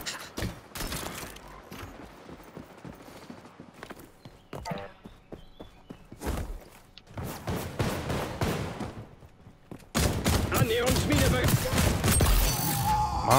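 Gunfire and action in the shooter video game XDefiant on PS5, with bursts of shots and scattered impacts that swell into a loud, dense barrage near the end, alongside other game effects.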